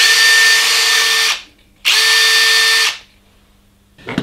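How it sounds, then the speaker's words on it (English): A cordless drill spins one electric motor coupled directly to a second motor, giving two loud, steady whirring bursts of about a second each with a short pause between them, then a faint clatter at the end. "if you just connect two of these motors directly together and spin one with the drill,"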